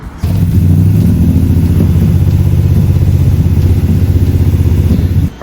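A Chevrolet Nova V8 cranks and catches with only one cylinder bank firing, then runs in a loud, rough, uneven idle with a lumpy pulse before cutting off abruptly near the end.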